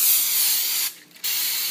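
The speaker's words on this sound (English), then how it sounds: "Now I'm going to go ahead and spray my pan with Pam" Two close bursts of Pam cooking spray hiss onto a pan, a loud aerosol spray with a brief pause between them.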